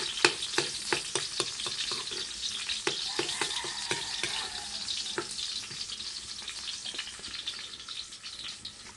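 Garlic and red onion sauté in hot cooking oil, giving a steady close sizzle with frequent sharp spatula taps and scrapes against the pan throughout.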